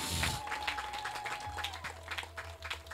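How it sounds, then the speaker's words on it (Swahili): A church congregation claps and applauds for Jesus, a dense sustained round of hand claps from a crowd filling the space, with a low hum underneath. "Mshangilie Yesu kwa makofi mazuri."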